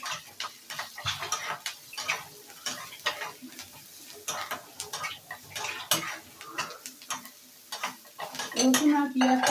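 Onion, garlic, cumin and turmeric fry in a pan while a metal spoon stirs, giving quick scraping clinks and taps over a light sizzle, close and fairly busy, with no talking.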